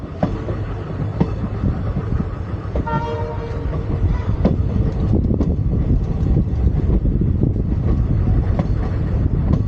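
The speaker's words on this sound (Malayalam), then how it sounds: "നമ്മൾ ഭഗവതിപുരം റെയിൽവേ സ്റ്റേഷനിലേക്ക് എത്തിക്കൊണ്ടിരിക്കുകയാണ്." A train rolls into Bhagavathipuram railway station on the Kollam–Sengottai line, its steady rumble and wheel clatter building throughout, with a brief horn toot partway through.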